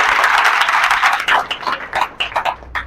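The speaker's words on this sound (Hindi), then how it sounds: "चलिए बैठ जाइए, ताली बजाइए।" Students in a classroom clap together, a dense burst of many hands that thins after about a second into scattered, irregular claps fading toward the end.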